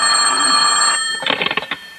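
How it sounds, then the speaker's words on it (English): An old-fashioned telephone bell rings loudly at close range on a principal's office desk in a 1955 radio comedy, a sustained metallic trill that breaks into a rapid clattering rattle before stopping. "his phone rang"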